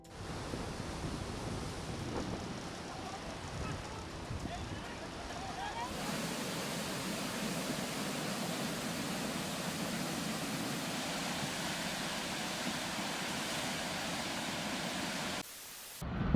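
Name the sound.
floodwater rushing through a small town in Germany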